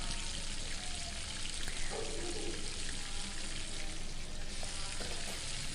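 Onion fritters frying in hot oil, a steady, dense sizzle and crackle that runs continuously at moderate level, with faint clinks of utensils under it.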